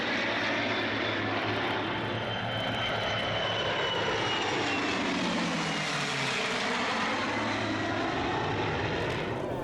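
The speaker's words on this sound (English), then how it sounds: "the US Air Force Heritage Flight, with an F-35A Lightning II, A-10 Thunderbolt II, and 2 P-51 Mustangs." The US Air Force Heritage Flight of an F-35A Lightning II, A-10 Thunderbolt II and two P-51 Mustangs passes over EAA AirVenture Oshkosh 2017: a loud, continuous engine and propeller roar with a sweeping pitch shift as the aircraft pass.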